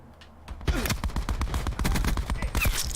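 Rapid bursts of gunfire from a Call of Duty match, loud and dense, with shots firing in quick succession for most of the clip after a brief quieter start.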